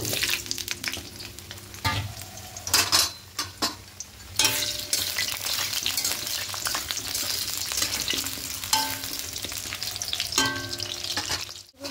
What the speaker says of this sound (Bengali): এবার আলুটা ভেজে নেব